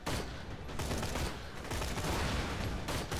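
A grenade machine gun in Borderlands 2 fires in a dense, continuous roar of rapid shots and blasts, loud and sustained throughout.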